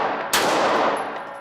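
One crisp pistol shot cracks out during a Deputy Marshal court security qualification course of fire, leaving a ringing, reverberant tail in an otherwise quiet moment.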